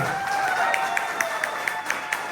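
An audience at a company gathering in India claps together in a steady, even rhythm, a loud and continuous sound of many hands heard from within the crowd.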